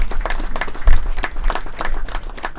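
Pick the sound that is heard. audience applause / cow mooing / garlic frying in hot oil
audience applause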